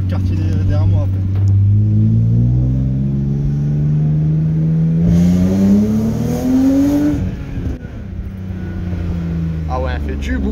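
A car engine revving hard and loud, pitch climbing steadily over several seconds and then dropping, with a continuous roar throughout and people talking over it.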